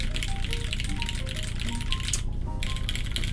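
Keycult No2 mechanical keyboard with MX Clear switches typed on rapidly, a dense, continuous clatter of close keystrokes with a brief pause near the end and no voices.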